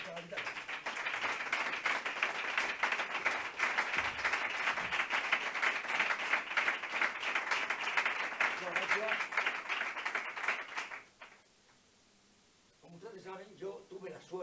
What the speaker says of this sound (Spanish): pido un gran aplauso para él y para él